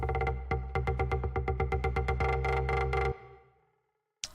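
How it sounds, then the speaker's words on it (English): A synthesized FM bassline plays a rapid run of evenly spaced, punchy plucked notes, loud and alone, then stops and decays into quiet before a brief click at the end. "It's like an FM bassline"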